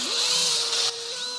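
A machine polisher spins a buffing pad loaded with compound over a car's clear coat, a steady whirring drone whose pitch dips slightly near the end, with no talking.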